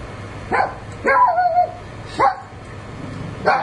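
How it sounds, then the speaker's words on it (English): A dog barks close by four times, irregularly spaced, one bark drawn out into a yelping whine, with quiet room noise between. "Now my dog wants to bark."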